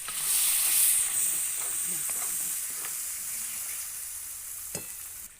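Village-style chicken masala frying in hot oil, a bright steady sizzle and hiss up close, with occasional soft stirring knocks and one sharp clink near the end.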